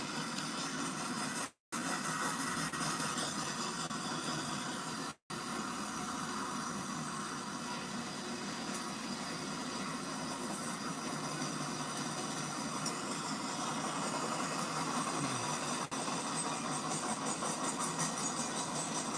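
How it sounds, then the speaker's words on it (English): A long freight train hauling auto racks rolls past in a steady, dense rumble and rattle that fills the whole stretch without letting up. No one talks. "This is a pretty long train."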